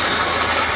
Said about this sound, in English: Getting the hose in.